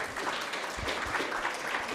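Audience applause at the final of a university moot court competition, steady dense clapping filling the whole stretch at moderate loudness with no talk over it.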